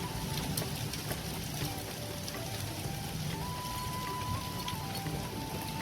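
Heavy torrential rain pours in a dense, unbroken hiss with scattered drops pattering on a rooftop where a kettle sits, steady and fairly faint throughout.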